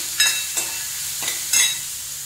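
Two finely chopped onions sauté in oil with cumin in a pan, giving a steady close sizzle broken by three or four scraping stirs of a spoon, with no voices.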